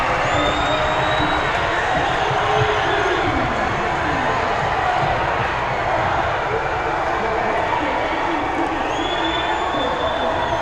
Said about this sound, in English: Unbelievable effort as the crowd will rush the court